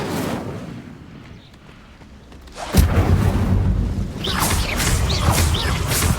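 An Incendio fire spell cast in Hogwarts Legacy on hard difficulty bursts out as a sudden booming whoosh midway, followed by roaring, crackling magical effects amid ongoing combat sounds.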